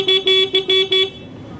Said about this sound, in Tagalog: So pindutin natin, stock horn yan.